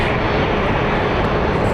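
An airliner in Sunny the Collared Lizard livery departs for Cleveland from Phoenix Sky Harbor International Airport, its engines a loud, steady, broadband roar filling the air without pause.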